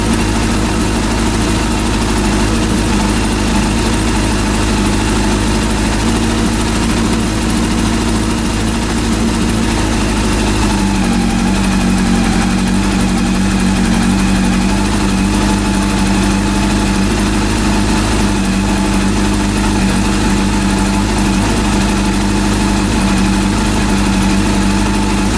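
A rebuilt Honda CB400 motorcycle engine idles steadily at about 1,450 RPM indoors, a loud continuous hum with an even low throb that shifts slightly in pitch midway as the idle is adjusted.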